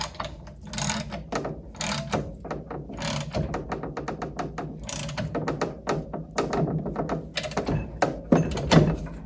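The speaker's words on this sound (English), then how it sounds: "I'm going to transition back to the ratchet." A hand ratchet clicks in quick repeated bursts while working on a seized outdrive bearing carrier in a boat's lower unit, close and sharp, with occasional metallic knocks between strokes.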